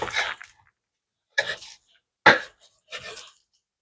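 A knife sawing through a rack of baby back ribs, four short, rough cutting strokes separated by pauses, close and fairly loud with no talk over them.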